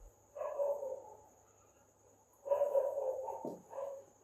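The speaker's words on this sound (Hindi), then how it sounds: "कुत्तों का इस तरीके से लड़ना भौंकना" Dogs bark and snarl at night in bursts, one around the first second and a longer scuffling run a couple of seconds later, moderately distant, over a steady high insect drone and otherwise quiet air.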